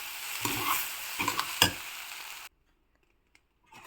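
White rice being stirred with salted vegetables in a pan for vegetable fried rice, giving a steady scraping sizzle with a few sharper clinks before it cuts off into near silence.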